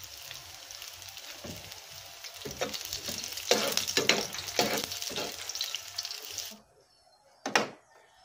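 A pot of sinigang na sagisi coming to a boil outdoors, with close bubbling and spitting in a dense crackling wash that rises in bursts. It cuts off abruptly, then one short final burst follows.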